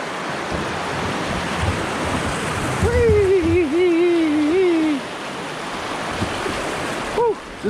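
A kayak runs rapids on the Jacobs Fork River in North Carolina, with rushing, splashing water close by throughout and a person's voice letting out a long wavering exclamation partway through.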